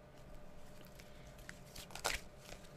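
Soft papery riffling and a few quick flicks of tarot cards being shuffled, with one sharper burst near the end, quiet and close by.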